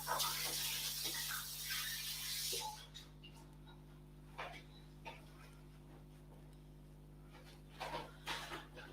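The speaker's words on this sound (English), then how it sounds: "just give my hands a rinse as well" A tap runs loudly while hands are rinsed beneath it during mince pie baking. The water stops after about two and a half seconds, leaving quieter kitchen clatter and faint handling sounds.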